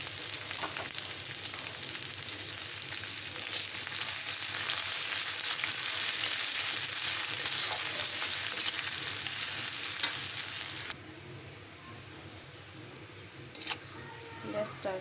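Onion and garlic frying in a pan, with a loud, dense, continuous sizzle that drops suddenly to a quieter crackle near the end, close up.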